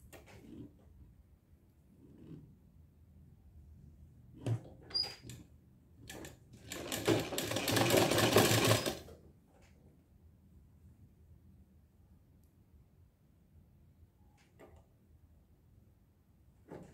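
A sewing machine stitches a fabric seam in one short burst of about two seconds, with quiet handling clicks and taps before and after.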